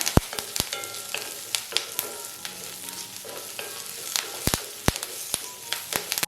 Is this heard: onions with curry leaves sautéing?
yes